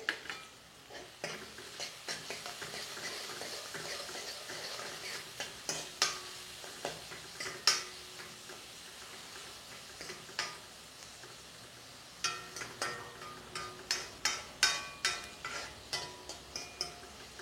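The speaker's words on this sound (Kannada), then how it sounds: "ಇದು ಉಳ್ಳಾಗಡ್ಡಿ ಈ ಥರ ಎಣ್ಣೆಗೆ ಕುದಿಬೇಕ್ರಿ" Onions sizzle softly in oil while a spoon scrapes and clicks against the pan in an irregular stirring rhythm, while making North Karnataka girmit.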